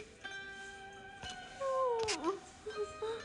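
A cartoon cat meows in a Turkish kids' animation, a short rising and falling cry standing out over music and other bright tones, with a brief sweeping sound near the end.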